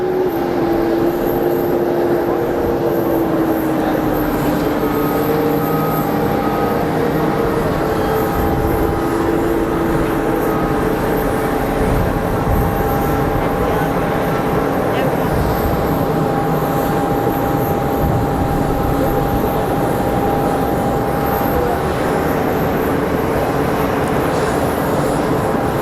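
Lufthansa regional jet at Geneva Airport, heard as a steady, loud, continuous engine drone with sustained tonal whine, holding level across the whole stretch with no voices.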